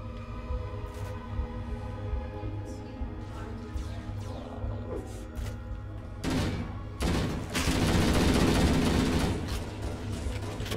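Shotgun blasts and heavy gunfire in Halo: Combat Evolved, a few scattered shots followed by a loud, dense burst of firing and crashes over a low droning game soundtrack.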